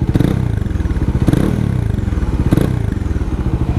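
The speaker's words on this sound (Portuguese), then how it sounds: "Vamos escutar aqui o escape." A Bajaj Dominar 400 motorcycle idles close by, its exhaust putting out a loud, lumpy rhythmic chugging with periodic heavier pulses.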